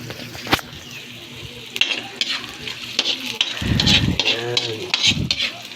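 Chopped onion hitting hot oil in a pan, with steady sizzling, scraping stir strokes and utensil clinks on the pan, close by; a voice talks briefly partway through.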